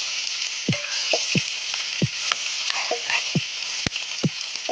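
Onions sizzling steadily in a pan for fish curry, a continuous bright frying hiss broken by a series of scraping and knocking strokes as they are stirred.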